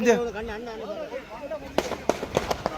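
Firecrackers burst at a Catholic festival in Jaffna: a quick run of sharp pops and cracks in the second half, loud and close, after someone talks in an excited voice.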